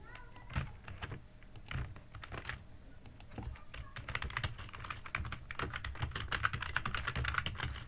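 Keys clatter on a computer keyboard as accounting text is typed, starting with spaced taps and building into a dense, rapid run of close, crisp keystrokes, with no talking.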